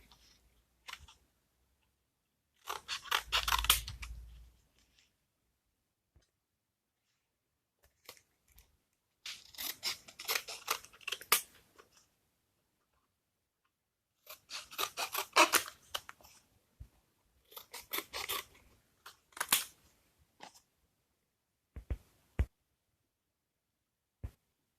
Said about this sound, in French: Si vous en découpez une trop grande ou trop petite, vous pouvez la mettre de côté